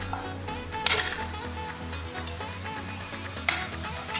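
Curd being stirred into soya chunk curry frying in a pan over a low flame, with a steady sizzle and a couple of sharper scrapes of the spoon against the pan.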